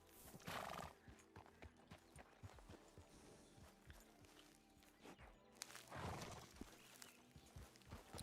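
Horses in the Red Dead Redemption 2 game world (RedM) clip-clop along and whinny twice, the neighs loud and close over a faint background of hooves and ambient sound.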